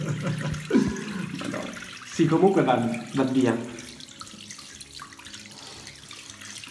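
Running water from a tap or shower while pink-dyed hair is rinsed, a steady splashing wash under a voice talking in bursts, then continuing more softly alone.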